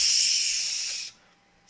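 A voice imitates a steam hiss with a long, loud breathy hiss that cuts off, then starts again briefly after a short pause.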